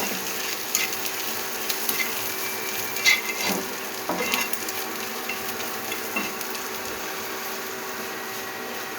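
Chopped garlic and raw onion fry in hot oil for beef kala bhuna, a steady close sizzle with occasional scraping stirs and soft clatters, no voices.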